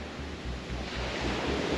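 Ocean waves wash against the Maui shore during a wildfire, a continuous loud roar of surf mixed with wind buffeting the microphone, with no voices.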